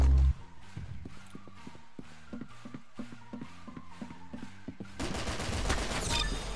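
Rapid bursts of weapon fire from a rail gun in the Roblox game Arsenal, a steady rhythmic string of sharp shots over a thudding low pulse, ending in a denser, brighter barrage for the last second or so.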